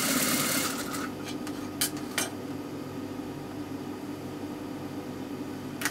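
A sewing machine stitches a seam on a shalwar, a steady mechanical whir running close and continuous throughout, louder at the start, with a couple of brief clicks partway through.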